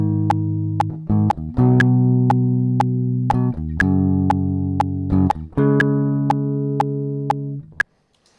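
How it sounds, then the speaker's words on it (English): An electric guitar plugged straight into an audio interface plays sustained chords in a slow sequence, each strum ringing clearly before changing, with a sharp click marking each beat and an abrupt stop at the end. "I have my guitar plugged straight into input 1 of the interface now. So if I hit record and play some chords."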